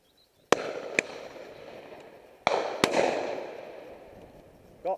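Shotgun blasts at a pheasant and partridge shoot crack out outdoors, four sharp reports in two close pairs, each followed by a long decaying echo, with a faint voice near the end.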